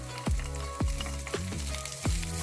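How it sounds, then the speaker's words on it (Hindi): White cabbage frying in cooking oil, a continuous close sizzle with several pops and stirring scrapes at a loose, uneven rhythm. "Ich nehme jetzt Weißkohl für Braten।"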